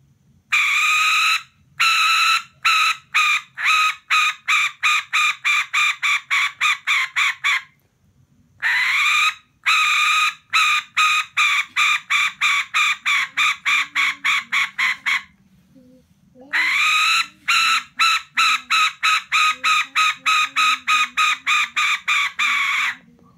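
A Thai brass hen-call whistle blown in long trains of rapid, clipped cluck-like notes, loud and close, imitating a hen; three bursts separated by short pauses, with faint background noise.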